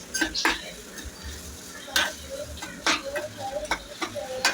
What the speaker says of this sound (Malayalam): ഇനി നമുക്ക് നന്നായിട്ടൊന്ന് ഇളക്കി കൊടുക്കാം